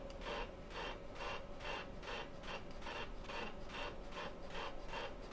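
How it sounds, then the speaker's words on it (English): Hand ice auger boring a hole through lake ice in Ultimate Fishing Simulator, winter fishing: repeated rhythmic scraping, rasping strokes about twice a second, close and steady, with no talking. "So we're drilling our little hole."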